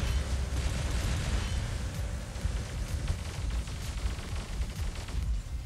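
Rumbling airstrike blasts in the War Robots mech game on a test server, a dense continuous roar of explosions with repeated bursts and booms layered over heavy low rumble, loud and sustained throughout.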